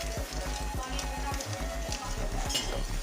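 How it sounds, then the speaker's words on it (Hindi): Sugar melts in a pan while a spoon stirs it steadily, producing rhythmic scraping strokes about every quarter second over a soft, constant sizzle, heard close up. "मुसलसल में इसे हिलाती रहूंगी ताकि चीनी अच्छे से मेल्ट हो जाए।"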